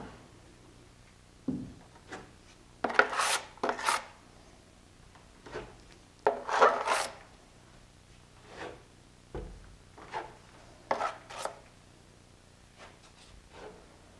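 A drywall taping knife spreads joint compound over tape to fill a bevel. Soft, intermittent scraping strokes come in short bursts separated by quiet gaps.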